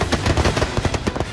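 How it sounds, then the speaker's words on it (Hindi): Rapid bursts of gunfire crack out at targets during a joint Indian and US special forces military exercise, a dense, loud, near string of shots with no talking. "सामने टारगेट और टारगेट पर दागी जाती गोलियां"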